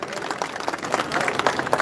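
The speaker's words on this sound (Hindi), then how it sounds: "एक बार तालियों से उनका अभिनंदन करें" Applause from an audience at a khap mahapanchayat in Muzaffarnagar, held in support of wrestlers, greeting an invited speaker; a dense, steady patter of many hands clapping at once, fairly close, in a short burst with some voices mixed in.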